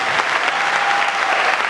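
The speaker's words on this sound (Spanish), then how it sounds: "aplaudan al Señor si lo va a hacer con fuerza" Church congregation applauding together during a Spanish-language worship service, a dense, steady wash of clapping sustained throughout, moderately loud and filling the room.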